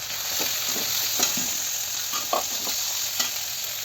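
Chopped carrot, onion, tomato, ginger and garlic frying in a pan, a steady loud sizzle broken by several sharp clinks and scrapes of stirring, with no talk.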